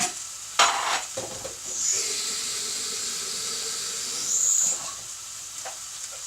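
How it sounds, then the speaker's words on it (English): An electric kettle heats water for stock in a home kitchen. It gives a steady airy hiss that swells gently, with a few light clinks and knocks near the start. "what I'm going to do is boil the kettle because I'm going to need some stock"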